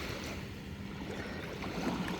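Surf breaking on the Lake Michigan beach at Kohler Andrae State Park, a steady broadband wash of rolling waves with wind noise over the microphone, continuous and fairly close, with no talking.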